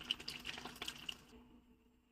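Water running into a container, a soft trickling and splashing with small drips that cuts off partway through, leaving near silence.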